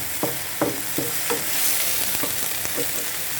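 Two hot green chillies sizzle in oil in a frying pan, with a run of sharp stirring scrapes and crackles over a steady frying hiss; no one speaks.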